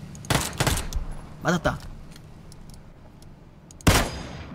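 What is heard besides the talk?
gunfire in the video game PUBG Battlegrounds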